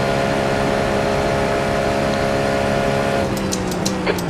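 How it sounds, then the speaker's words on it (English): A video game race car engine drones steadily at high revs during a Daytona 24-hour race, its pitch sliding down near the end as it shifts, with faint higher whines layered on top. "There's a car leaving the pits."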